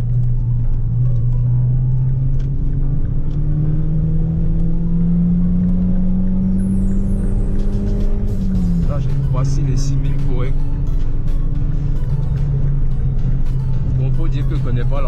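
An Opel Vectra GTS engine revs while driving on a road near a roundabout, a loud steady drone climbing in pitch for several seconds, dipping at a gear change, then pulling again, with someone talking over it.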